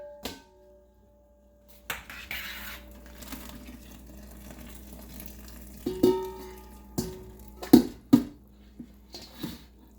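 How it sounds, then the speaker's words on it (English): Cooked mushrooms scooped out with a wire mesh sieve into a bowl: quiet low hum at first, then a run of close scrapes, metallic clinks and wet splashes that come in uneven bursts during the second half. "I'm going to use like a wire mesh sieve, and I'm going to scoop them out"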